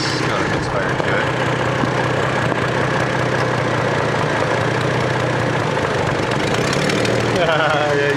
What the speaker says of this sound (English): Yeah, that's got a Misfire to it.